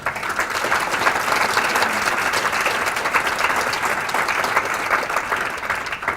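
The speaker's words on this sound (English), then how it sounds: "they deserve a round of applause" A sustained round of applause for the Imagination Library team from a seated audience, even and dense clapping at moderate distance with no talking over it.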